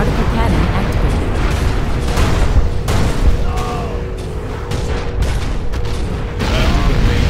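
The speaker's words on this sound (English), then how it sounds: "Warning, particle cannon activated." Particle cannon strike in the real-time strategy game C&C Generals Zero Hour, Contra X beta mod: a dense, loud, continuous rumble of booms and crackling blasts with scattered gunfire, and a voice joins briefly.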